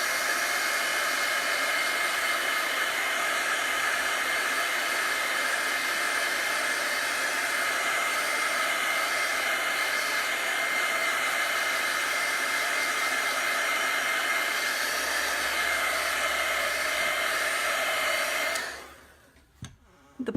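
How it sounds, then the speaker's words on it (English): A heat set gun blows a steady, loud whooshing roar while drying chalk paste on a Valentine sign, running continuously before switching off near the end with a brief clatter. "Now I'm going to use this heat set gun to dry it real quick."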